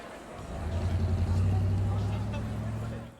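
Heavy city traffic ambience in a Wwise game audio demo, a low rumbling engine drone of cars and buses swelling and fading, with faint pedestrian babble underneath.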